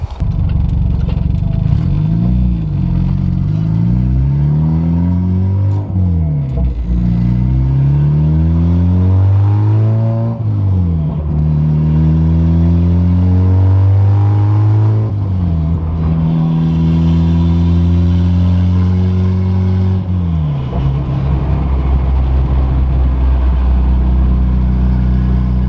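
A turbocharged EF Honda Civic drives and revs hard, its engine note rising and falling through repeated gear pulls, loud and close throughout with no talking.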